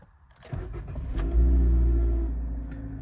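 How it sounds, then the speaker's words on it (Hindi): A car engine cranks and catches on a cold start, then settles into a steady, loud idle close to the microphone, with the revs briefly rising before easing down. "इंजन को स्टार्ट कर लेते हैं एक बारी, है ना। इसका इग्निशन ऑन कर लेते हैं।"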